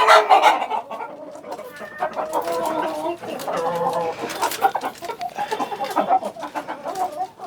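Layer hens on a poultry farm cluck and squawk close by in a busy, overlapping chorus of throaty calls, with a few sharper cries rising above the rest.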